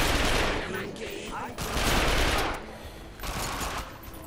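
Rapid automatic gunfire in The Darkness II video game, dense bursts of shots in two or three waves with brief dips between, loud and close, with a player's voice talking over it.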